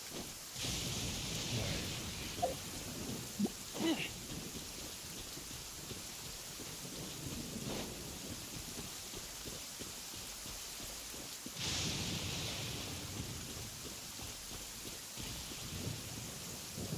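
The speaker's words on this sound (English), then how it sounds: "Yeah, I summoned a storm." Thunderstorm in the video game Genshin Impact: steady heavy rain hisses throughout while several thunder cracks and rumbles break in, loud and close, with no talk.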